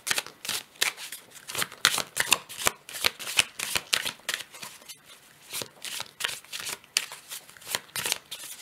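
A deck of oracle cards being shuffled by hand: quick riffling and flicking bursts in an uneven rhythm, close and crisp, with short pauses between runs and no talking.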